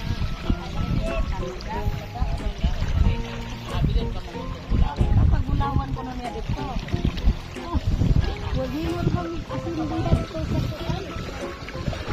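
A boat motor hums over water with splashing and lapping waves as the boat approaches during island hopping, while voices talk throughout.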